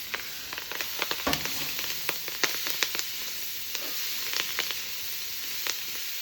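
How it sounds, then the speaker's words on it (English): Food sizzles steadily in a wok on an outdoor barbecue, a continuous crackling fry with sharp pops and spits, moderately close and without talk. "we're just cooking on the barbie here with the wok"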